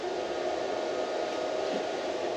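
A Hynade MTS155 welder runs steadily in an arc weld, a continuous loud crackling hiss that holds evenly throughout with no pauses, close up and with no talking over it.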